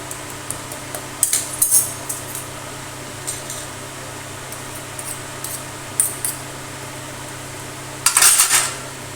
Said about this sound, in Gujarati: હવે આપણે તેને ચમચાની મદદથી આવી રીતે આપણે એક સરખું દબાવી લેશું